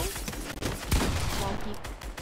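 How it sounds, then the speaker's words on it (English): Rapid bursts of gunfire in the battle-royale game Fortnite, close and loud crackling shots overlapping in a fast volley, with a voice speaking over the shooting. "I'm getting shot at."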